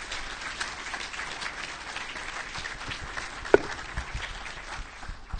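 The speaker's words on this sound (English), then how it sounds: "So we can give him a round of applause and then take questions." Audience applause fills a conference session room after a tech talk. The clapping is soft and fairly distant, with an even wash of many hands and one sharp, louder clap standing out partway through.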